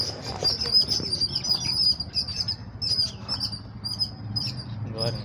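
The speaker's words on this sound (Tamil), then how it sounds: "லவ் பேர்ட்ஸ் அதிகமாக இருக்குது லவ் பேர்ட்ஸ் நிறைய" Lovebirds chirp rapidly in high, bright bursts amid repeated fluttering wingbeats nearby, the busy twittering and flapping continuing throughout.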